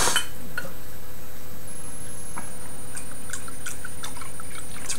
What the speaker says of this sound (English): I'm pouring it a little aggressively to see if I can get some head